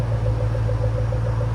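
A 2009 Ford Mustang Shelby GT500 with a 5.4L supercharged V8 and Black Widow exhaust idles close by in a loud, steady, deep throbbing rumble that does not change, with no talk.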